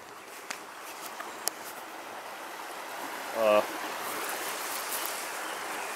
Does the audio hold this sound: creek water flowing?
yes